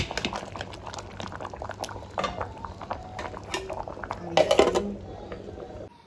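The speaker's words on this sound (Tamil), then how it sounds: "இன்றைக்கு குத்தரிசி சோறு தான் போட்டிருக்கிறேன் சோறு அவிய வேணும்" A pot of parboiled rice bubbles and simmers steadily, with scattered clinks of a utensil against metal and a louder burst of bubbling near the end.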